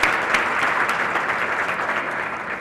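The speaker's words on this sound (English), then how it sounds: "We can clap." Steady audience applause at a corporate women's club awards event, dense even clapping from a sizable indoor crowd, continuous and fairly loud throughout.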